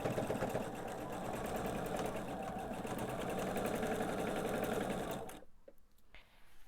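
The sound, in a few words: sewing machine sewing quilt blocks together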